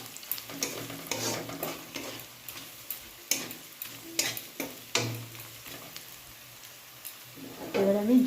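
Lightly fried onion being stirred with cumin and coriander powder in a pan, with a spatula scraping in a steady rhythm over a soft sizzle. Close and fairly quiet, with no voices.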